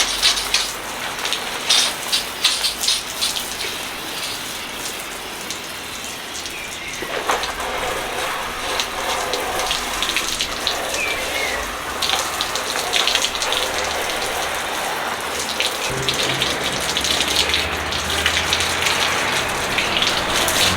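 Water splashes and pours steadily while a triathlon wetsuit is rinsed out after a swim, a loud, close, continuous gush with scattered drips and no voices.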